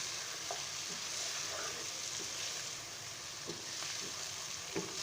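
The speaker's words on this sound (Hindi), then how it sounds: "अब ये जो सबसे ज़रूरी अचारी मसाले हैं ये मैं शामिल कर दूंगी और दोबारा से इसको भून लेंगे" Mutton being fried again with achari pickle masala in a pan, a soft, even crackle and sizzle with occasional faint stirring taps, fairly quiet and close.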